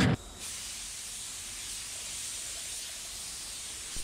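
A spray gun lays the first base coat of paint onto a 1987 Blazer, producing a close, steady hiss that runs almost continuously after a brief thump at the start.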